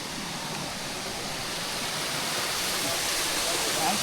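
Steady, loud rushing of a waterfall right beside a riverside meal spot on the Agasthiyarkoodam trek in Kerala's hills. It is a continuous broadband roar with no pauses and no voices.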